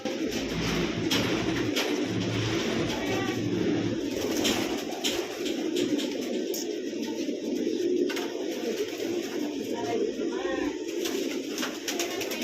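Racing pigeons, booted Jan Grondelaers bred for extreme long-distance races, coo steadily throughout a loft, with scattered wing flutters and shuffling over a constant background hum; no speech.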